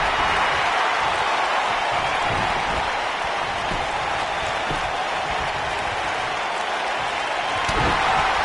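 A wrestling arena crowd in WWE 2K19 roars steadily through a Sid match, a dense, even wash of cheering that never lets up and swells slightly at the end.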